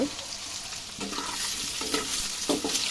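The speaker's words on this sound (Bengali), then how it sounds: "শব্দ হচ্ছে বরফ গলে পেঁয়াজটা তো বরফ জমেছিল গলে হালকা রস রস আছে" Frozen chopped onion, thawing and wet with juice, sizzles hard in hot oil in a pan, a close, bright crackle with stirring scrapes now and then and no voices.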